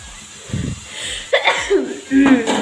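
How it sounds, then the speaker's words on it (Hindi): A sneeze bursts out in a kitchen while sarai boda mushroom curry is being cooked, preceded by a cough-like sound and followed by a short throaty outburst, loud and close. "छींक भी आते।"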